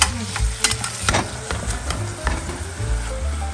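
Half a pound of ground beef and onions with a pinch of salt fry in a pan, a steady close sizzle broken by several sharp scrapes and stirs of a spatula, with no voices.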